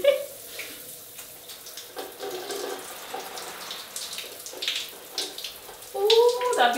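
Shower water spraying steadily onto a moss pole plant indoors, a continuous hiss of running water with shifting splashes as the stream moves, some brief voice sounds underneath.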